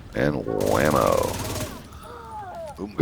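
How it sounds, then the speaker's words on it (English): Cannon firing in the Into the Dark video game: a rapid burst of blasts lasting about a second, heard under someone talking. "Boom goes that cannon."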